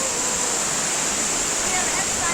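A river and waterfall rush steadily, a loud, unbroken roar of falling and flowing water that fills the whole clip with no other sound standing out.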